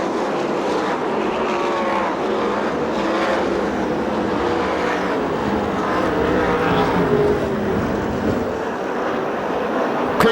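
USAC/CRA sprint cars racing on the Perris dirt track, engines roaring continuously as several cars pass and overlap, loud and close, with a voice faintly audible beneath the din.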